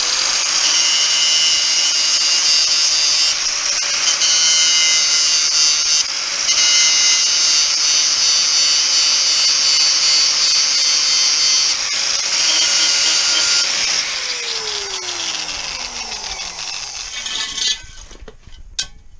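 A power tool grinds steadily at the rusty end of a metal brace on a Classic Mini under restoration. The whine holds loud and close for most of the clip, then falls in pitch as it spins down.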